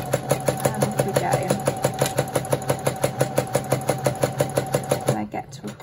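Sewing machine stitching sequin fabric for a zipper coin purse, a steady rapid mechanical chatter of needle strokes running loud and close for about five seconds before stopping.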